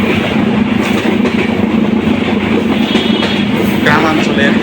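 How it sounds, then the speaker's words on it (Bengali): A passenger train pulls away from the station and rolls steadily along the track, its loud continuous rumble and rhythmic wheel clatter filling the carriage from close by. "ট্রেন ছেড়ে দিল।"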